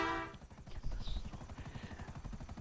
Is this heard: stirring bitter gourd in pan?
no